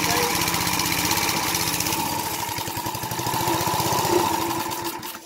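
A gas-powered lawn edger runs steadily at close range, its engine a continuous buzzing drone with a tight-sounding belt whirring along, holding an even level throughout.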